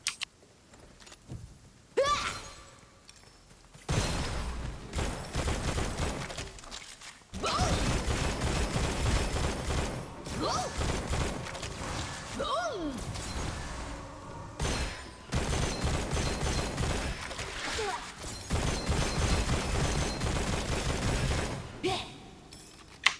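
Bursts of gunfire in Rainbow Six, the first-person shooter, come in loud dense volleys separated by short quiet gaps, with mechanical clatter and voices mixed in.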